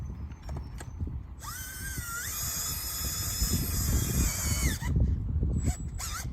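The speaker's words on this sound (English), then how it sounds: "I happen to have a drill handy with a great big auger" A powered drill with a large auger bores into the ground while vineyard intermediate posts are replaced. Its motor whines loud and close for about three seconds, its pitch rising and holding, over rustling and clattering.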